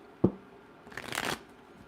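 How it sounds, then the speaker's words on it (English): Tarot cards being shuffled: a single sharp tap, then a short riffling burst of papery flutter lasting about half a second, close and fairly quiet, with no speech. "Let's keep shuffling."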